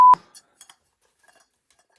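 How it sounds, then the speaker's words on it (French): A single short, clean electronic censor bleep, loud and close, is followed by a few faint scattered clicks and near silence. "désolé pour le langage, je mettrai des bips"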